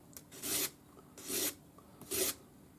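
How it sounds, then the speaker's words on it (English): Three slow rasping strokes of 400 grade sandpaper on a sanding stick, smoothing a pearl ring, each a soft scratchy rub about a second apart, close and quiet with no talking. "I'm using 400 grade paper on my sanding stick."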